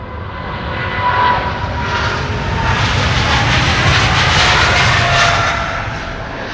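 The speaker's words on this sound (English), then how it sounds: "This is KLM Flight 605 to San Francisco, 777-200 the PHBQK, 20 years old, first flight January 2005." KLM Boeing 777-200 airliner, twenty years old, taking off at Amsterdam Schiphol on a sunny day, a loud broad jet roar that swells and holds steady throughout, with no voices.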